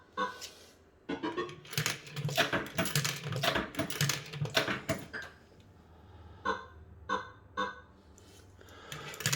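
Associated Leisure Lucky Strike arcade fruit machine on MPU2 hardware, giving out a run of loud electronic beeps and clattering bursts, busy at first, then sparser, evenly spaced chirps near the end.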